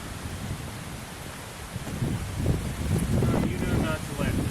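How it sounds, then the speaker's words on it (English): Thunderstorm wind picks up outdoors ahead of hail, gusting harder after the first couple of seconds and buffeting the microphone with a rough, rumbling roar, loud and close. "Wind's picking up."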